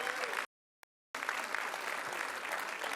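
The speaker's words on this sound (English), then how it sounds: "Let's give him a round of applause as well." An audience at an affordable housing announcement in the Bronx breaks into steady, full applause, cut by a brief silent gap before the clapping resumes.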